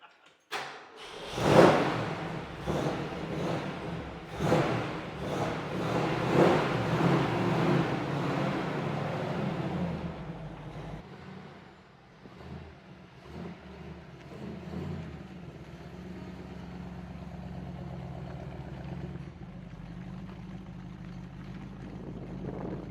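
A 1968 Shelby Mustang GT500 fastback with a 7-litre V8 and manual gearbox moves off, its engine revving through several surges before fading into a steady lower rumble as it drives away.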